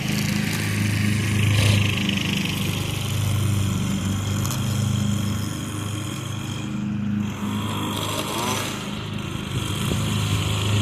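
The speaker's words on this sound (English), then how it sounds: "And you also got to hear the lawnmower up close" A Craftsman riding lawn mower runs up close with a steady, loud engine drone that holds for about ten seconds with small dips in pitch.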